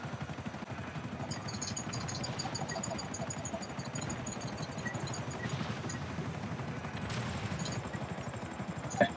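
Gunfire in the GTA V video game, a steady rattling burst of shots over a continuous helicopter-like drone, fairly faint and without talk.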